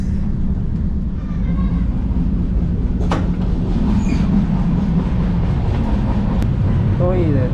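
A constant low rumble of a moving sleeper train in India heard from inside a first-class carriage, with occasional clicks and squeaks, and a voice talking over it.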